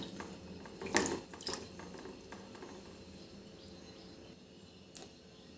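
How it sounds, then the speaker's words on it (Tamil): Water being drained from soaked rice flakes (aval) in a kitchen, a few sharp splashes and clinks of the vessel up front, then a soft trickle settling to quiet, with no talking. "அதனால் இதை வந்து தண்ணியை வடிகட்டிக்கலாம்."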